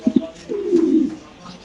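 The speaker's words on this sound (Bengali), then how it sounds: "এইটা হলো মুন্ডিয়ান একটা নর কবুতর মাশাআল্লাহ" A male Mundian pigeon coos up close, with two short throaty notes followed by a longer rolling coo, loud and clear with no talking.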